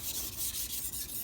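A carbon steel Santoku knife is drawn gently over a sharpening stone, giving a soft, steady gritty rubbing with slight stroke-to-stroke swells, faint and close, with no voices.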